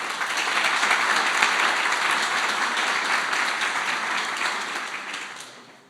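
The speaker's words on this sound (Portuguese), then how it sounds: "Uma salva de palmas para o Jonas" An audience in a church gathering applauds Jonas, a dense burst of clapping that swells quickly, holds for several seconds, then tapers off near the end.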